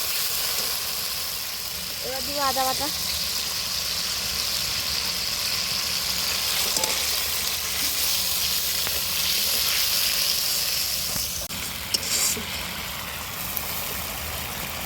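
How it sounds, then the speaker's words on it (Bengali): Spice paste bubbles and sizzles in a pan during village cooking. The frying hiss is steady and close throughout, a low hum runs underneath, and a brief voice is heard near the start. "দেখো বন্ধুরা মশলাটা কত সুন্দর টকবাক টাকবাক টাকবাক করে ফুটছে"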